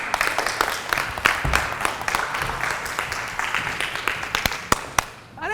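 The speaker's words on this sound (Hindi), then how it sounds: "चलिए अभी बजाइए ताली।" An audience at a stand-up comedy show bursts into scattered applause, with sharp individual claps popping out loudly over a rolling patter of hands, mixed with some voices.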